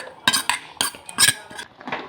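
A spoon scrapes and clinks against a metal pot while mango dal is stirred, in a run of sharp, close scraping knocks separated by brief pauses.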